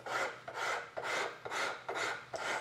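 A fine woodworking rasp files across wood in six even, rhythmic strokes, each a close, dry rasping scrape with brief pauses between.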